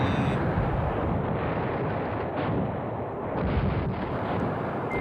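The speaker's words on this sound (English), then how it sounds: "It's dropping artillery." Artillery fire in the Command Ops 2 war strategy game, dense rumbling booms and blasts rolling together in a continuous, heavy barrage with no voices.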